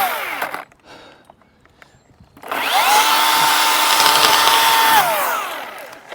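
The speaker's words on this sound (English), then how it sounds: "Saw doesn't seem to be cutting as fast as I'd like it to." A climber's chainsaw, a little dull and in need of sharpening, cuts through a tree limb with a loud, sustained buzzing whine. A short burst comes first, then after a pause a steady cut of about two and a half seconds that tapers off at the end.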